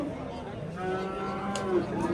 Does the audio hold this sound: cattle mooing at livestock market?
yes